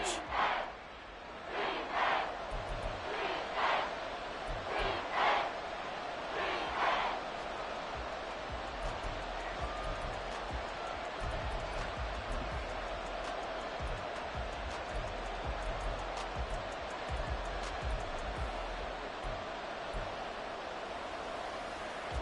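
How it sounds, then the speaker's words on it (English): A stadium crowd in a football video game keeps up a steady, dense roar on third and long. The wash of noise lasts throughout, with a few louder surges near the start. "This crowd turning up the decibel level."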